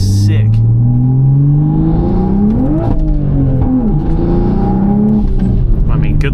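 An 840whp Toyota Supra running E85 revs loudly up and down close by, its engine tone climbing and falling in several pulls while people talk over it.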